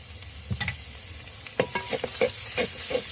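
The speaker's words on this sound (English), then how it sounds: "Now let's add some tomatoes." Tomatoes drop into sizzling eggplant curry in an earthen pot, a faint steady hiss broken by a run of close clacking stirs and scrapes against the clay, growing busier toward the end.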